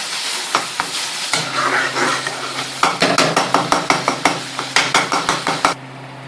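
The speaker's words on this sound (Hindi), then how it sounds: "अब हम टमाटर को तब तक पकाएंगे जब तक इनका तेल अलग नहीं हो जाता और ये गल नहीं जाता।" Tomatoes cooking down in oil in a pan make a close, steady sizzle under a constant low hum, while a spoon clanks against the pan in quick, regular stirring strokes.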